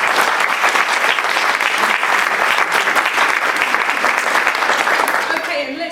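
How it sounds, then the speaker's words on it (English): A round of applause for debate team members fills the room, dense steady clapping from an audience that carries on throughout and fades slightly at the end. "Yes, a round of applause."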